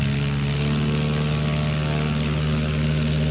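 A STOL aircraft takes off at a STOL competition runway, its propeller engine giving a loud, steady, close drone that fills the whole stretch with no voices.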